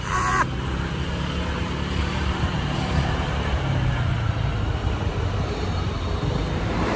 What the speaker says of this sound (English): So there you go, my danger ride through Seville on a PCX 125.